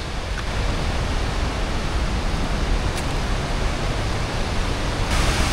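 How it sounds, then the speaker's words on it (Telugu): Charpa waterfall in Kerala on the route to Athirappilly, a loud, dense, continuous rush of falling water that fills the whole scene without letting up. "ఇది చార్పా వాటర్ ఫాల్స్."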